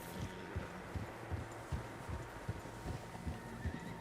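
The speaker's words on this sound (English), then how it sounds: "Horses, quite a few of them." Horses walk in the video game Red Dead Redemption 2, a steady rhythm of soft, muffled hoof thuds repeating roughly every half second under a low hum, fairly quiet and without speech.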